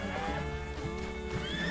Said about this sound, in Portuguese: Esse aí é o cavalo da Abigail, galera.